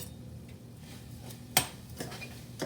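Black pepper being stirred into a lamb sauce in a pan, with quiet utensil scraping and one sharp metallic clink against the pan, followed by a few softer taps.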